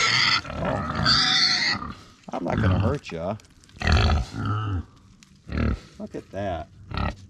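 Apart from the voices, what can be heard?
pigs grunting at feeding time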